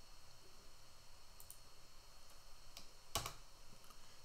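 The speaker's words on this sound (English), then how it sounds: "Maybe I better type it again here." Quiet, sparse keystrokes are tapped on a computer keyboard, a few isolated clicks with one sharper key hit, faint and close over a low room hum.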